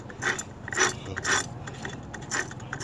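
Crown gear being turned freely by hand on its cage after fitting, giving repeated close metallic ratcheting clicks in short rhythmic bursts, with no speech.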